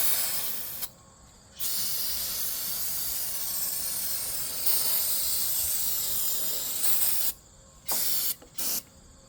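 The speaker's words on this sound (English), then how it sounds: "Give it a good spray." An aerosol can of brake cleaner sprays in a long, loud hiss while cleaning a 1994 7.3 Power Stroke engine during an oil change, stops, then hisses again before ending in a few short bursts.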